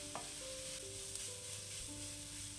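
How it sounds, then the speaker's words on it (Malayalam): Onion sautéing in a pan gives a continuous close sizzle with a faint stirring scrape, steady and unbroken, with a few thin electronic tones running through it and no voices. "സവാളയൊന്ന് വഴന്നു വരണം"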